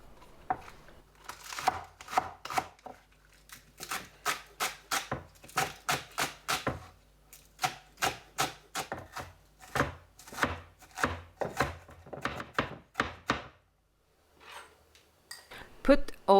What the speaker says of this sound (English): Chop the spring onion.